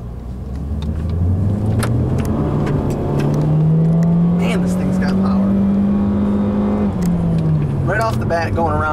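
A 2013 Nissan Juke Nismo with a turbocharged engine in sport mode accelerates hard, the engine note climbing steadily to a loud sustained drone before easing off, heard from inside the car.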